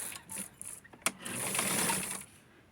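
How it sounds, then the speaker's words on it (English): Near and moderately loud, a sewing machine stitches the folded waist of Barbie doll pants, opening with a few short stuttering bursts and a sharp click, then running steadily for about a second. "So now I'm going to fold and sew the waist"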